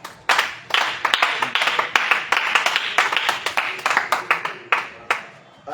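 Church congregation at a prayer meeting in Cotonou, Benin, clapping to acclaim Jesus: a steady stream of sharp, overlapping hand claps from many people, close and fairly loud, with no talk.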